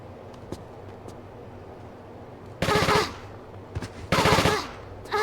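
Enemy gunfire in the video game Tomb Raider IV, two loud bursts of rapid shots, each lasting about half a second, with faint ticks and clicks in between.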